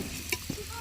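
Potatoes fry in a pan while being stirred, giving a soft, steady sizzle with a couple of quick scraping touches in under a second, no voices.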